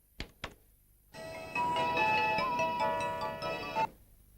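A phone ringtone plays in a Telugu film scene: a short double beep, then a bright electronic melody rings loud and steady for nearly three seconds before cutting off.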